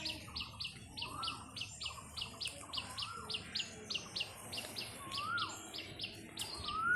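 Racing pigeons at their loft, with a steady run of rhythmic chirping calls repeating through the scene and a few sweeping call notes over a quiet, low ambient background; no talking.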